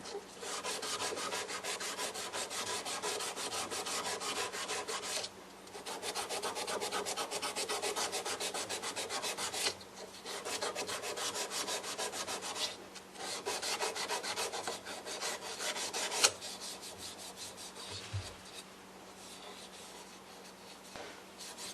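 Sandpaper sanding a wooden pen blank spinning on a lathe, working through the grits: a steady, close abrasive hiss in long continuous passes, broken by short pauses between strokes, with no talking.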